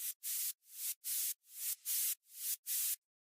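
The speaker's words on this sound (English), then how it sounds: "Never go wrong with white noise." Eight rhythmic bursts of filtered white noise in a music track, each swelling up or cutting in sharply, evenly spaced, bright and hissy, with no talk.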